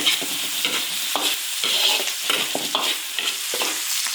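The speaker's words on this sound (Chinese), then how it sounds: "把香肠煸一下" Sausage stir-fried with garlic in an iron wok, sizzling loudly while a spatula scrapes and tosses in quick, irregular strokes, close and busy with no voices.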